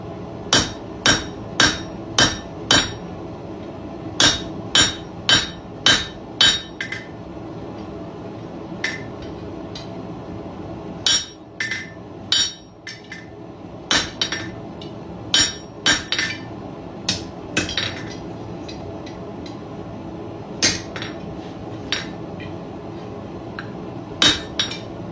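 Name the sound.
hammering bulldog hook nose flat on an anvil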